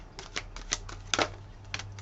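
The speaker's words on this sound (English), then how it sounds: "I could probably keep shuffling until the whole deck was on the table." A deck of tarot cards being shuffled and cards dropped on a table during a reading, soft irregular riffles and taps, faint and close, with no voices.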